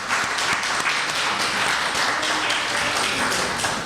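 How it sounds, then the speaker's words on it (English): A church congregation gives a full, sustained round of applause, a dense wash of many hands clapping continuously at a steady level throughout, with no voices standing out. "let's give Reverend Dorothy Watts another round of applause"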